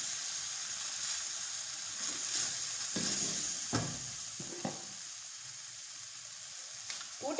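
Chicken cooking in a pan with sauces on a lowered flame, a steady soft sizzle running throughout, with a few clinks and scrapes of stirring in the middle and near the end.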